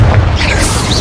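A loud, close blast from the Confringo fire spell in a wizarding video game, a heavy booming burst that rumbles on for about a second without any speech.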